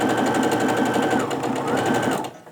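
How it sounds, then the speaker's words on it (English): A sewing machine runs steadily and close by, stitching a quilt row together with a rapid, even mechanical chatter for a couple of seconds before winding down. "I'm going to go ahead and sew the rest of this row together."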